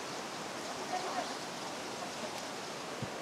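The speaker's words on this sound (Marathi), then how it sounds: "ह्या इथे ऑलरेडी खालती पण धबधबा आहे छोटासा." A small monsoon waterfall below Bhavali Dam gives a steady, soft broadband rush of falling water, continuous and fairly distant, with no clear talk over it.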